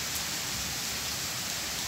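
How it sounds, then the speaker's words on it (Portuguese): Moderate rain falls steadily on a cobblestone street in Porto Alegre, an even, unbroken hiss of drops with no other sounds. "Chuva moderada."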